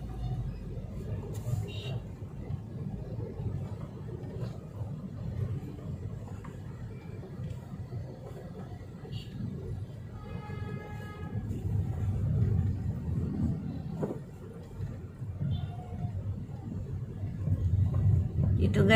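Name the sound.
street traffic near a market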